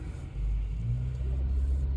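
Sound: bus driving past

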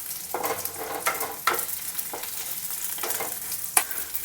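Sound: green chillies frying in a pan on low flame

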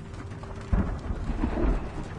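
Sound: thunderstorm in Shadow of the Tomb Raider video game

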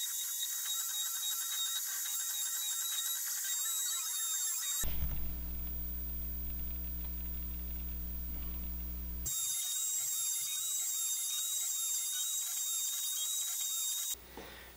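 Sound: small CNC machine cutting slots in metal

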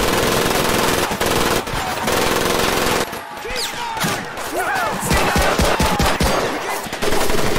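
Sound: mounted machine gun turret firing in Medal of Honor: Pacific Assault video game

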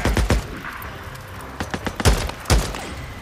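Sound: gunfire in video game Days Gone

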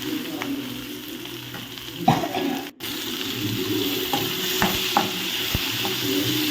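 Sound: frying bottle gourd and moong dal in a pan

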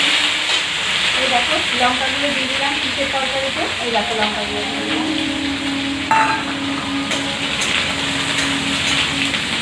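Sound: fried eggplant sizzling in pan with five-spice tempering

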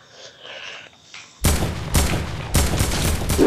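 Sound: gunfire from the video game Fortnite

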